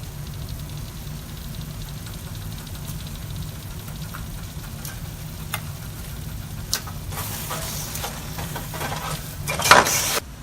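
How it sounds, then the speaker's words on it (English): Egusi stew with fish simmers in a pot as it is stirred, a steady low bubbling and sizzle with occasional scrapes and clinks of the utensil, and a louder clatter near the end. "See, now the stew is coming together. Egusi to the bowl."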